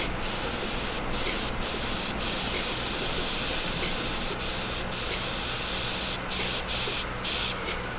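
An airbrush sprays paint in a steady loud hiss, cut by repeated brief pauses as the trigger is released, close up with no talk.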